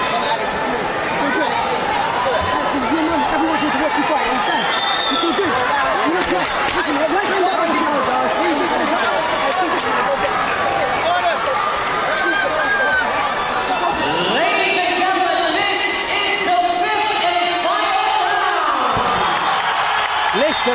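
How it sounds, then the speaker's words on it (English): At a boxing match before the fifth and final round, a large crowd cheers, chatters and roars continuously, loud and dense, with scattered whoops and a swell in the later part. "listen to that crowd for this, the 5th and final round"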